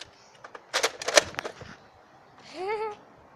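A Nerf Longshot foam dart blaster is fired indoors, giving a few quick, close mechanical pops and clacks in a brief cluster, followed by a short rising squeal.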